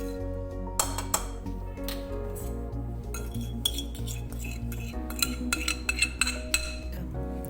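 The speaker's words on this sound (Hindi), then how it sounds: "इसको अच्छे से मिक्स कर लें।" Metal utensil clinking and scraping against a bowl as flour is mixed into eggless chocolate marble cake batter, repeated close taps over a steady humming drone in a home kitchen.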